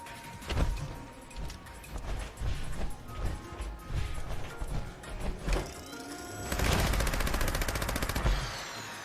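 Gunfire in Fallout 76 rings out in repeated bursts and single loud shots with heavy impacts, ending in a long sustained rapid-fire stretch, close and punchy with no talking.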